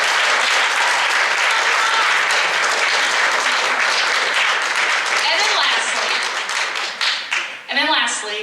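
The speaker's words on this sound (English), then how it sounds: "students, can you give like a round of applause to them for supporting you?" Students at a junior high honor band concert applaud their supporters, a dense, steady wash of clapping that holds loud and then thins out toward the end.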